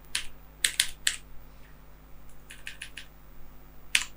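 Keystrokes on a computer keyboard as a Linux cp command is typed, crisp close clicks in short bursts with pauses between, no talking.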